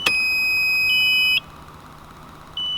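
A Nissan R32 Skyline GT-R gives a steady electronic chime as the ignition key is turned on: a sharp click, then a continuous high beep that drops, pauses and resumes, close and alone.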